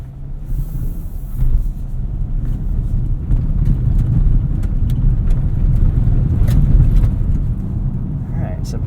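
A 2022 Hyundai Tucson XRT AWD driving off-road on a rough Michigan trail gives a steady, loud low rumble of engine and tires with wind buffeting, continuous throughout.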